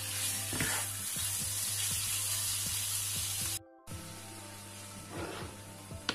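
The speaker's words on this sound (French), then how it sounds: "Un peu d'ail. De l'huile d'olive. Et je vais laisser tout doucement" Garlic cooking gently in olive oil, a soft steady sizzle with light crackles and a few stirring taps, briefly cut to near silence partway through before the quiet frying resumes.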